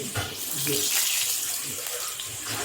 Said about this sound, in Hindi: अपने घर की ऐसे कटोरी में थोड़ा सा पानी दीजिए